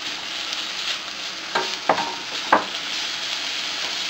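Pork sizzles in a hot pan beside pushed-aside vegetables for ginisang sitaw, a steady close frying hiss broken by a few scraping stirs.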